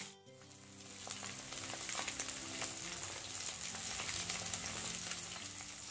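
Fish pieces fry in a pan as part of a spicy Odia seafood curry, giving a steady, even sizzle with soft crackling pops throughout, moderately close and with no talking.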